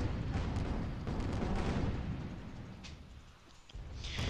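Airship guns fire in the Guns of Icarus video game during a multi-ship battle, a dense run of overlapping booms and blasts rolling on steadily, loud and close, with a brief lull before the barrage picks back up.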